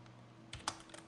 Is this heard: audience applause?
no